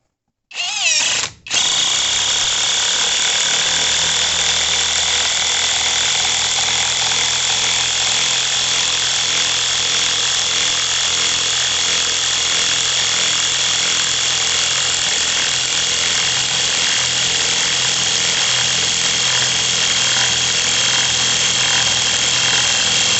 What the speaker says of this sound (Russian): Будем его вгонять, вот этот вот винт, вот этим вот гайковертом.